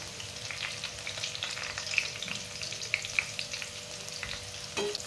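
Onion with cinnamon, shahjeera and bay leaf frying in oil for chicken biryani, a steady close sizzle with occasional stirring scrapes and small pops, no talking.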